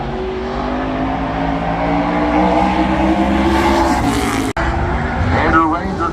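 Race car engines at Delaware Speedway in Ontario during an APC/NTN Twin 125 stock car event, a loud continuous roar with rising revs and a brief dropout, with a commentator talking over it.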